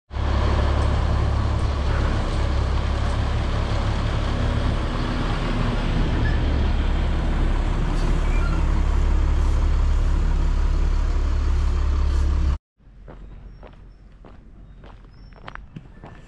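A bus or other large vehicle idles and rumbles loudly up close in a small mountain town on the Pacific Crest Trail, its engine drone cutting off abruptly near the end and leaving quieter surroundings with faint clicks.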